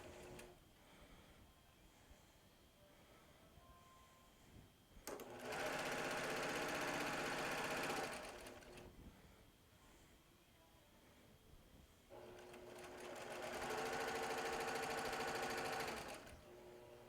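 A sewing machine stitches log cabin quilt block pieces in two separate runs of about three and four seconds, each a close, fast whirring rattle, with quiet room noise between them.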